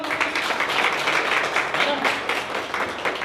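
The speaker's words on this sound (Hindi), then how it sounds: "जोरदार ताली बजाओ" Audience applause at a rally for the coronation-style celebration of Babasaheb, a dense steady wash of clapping throughout with crowd noise mixed in.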